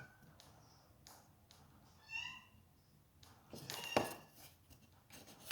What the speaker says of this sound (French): Il miaule depuis tout à l'heure